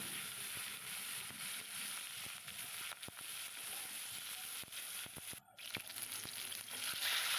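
A hilsa fish head frying in a pan, giving a steady close sizzle with small crackles and pops throughout, with no talk over it.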